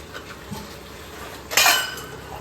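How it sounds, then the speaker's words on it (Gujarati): A single bright clatter of metal dishes and utensils knocking together while being washed, brief and close, against a quiet background. "અહીંયા મમ્મી વાસણ ઉટકતો તો એ જો આવ્યો."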